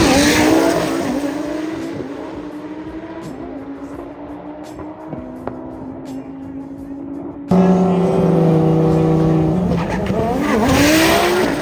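A Lamborghini does a burnout at a drag racing event, its engine screaming at high revs while the tires squeal steadily, getting louder and harsher partway through, with a crowd and other cars as noisy background.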